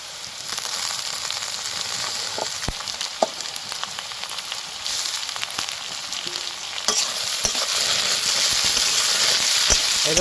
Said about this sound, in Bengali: এবার ভালো করে এই মশলার সাথে মাছের মাথাটাও তো ভেজে নেব